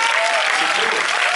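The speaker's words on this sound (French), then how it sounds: "Je vous demande énormément d'applaudissements pour Sylvain Debergue." A theater audience at a film premiere applauds the producer with loud, continuous clapping from many hands, a dense even wash with a faint murmur of voices beneath.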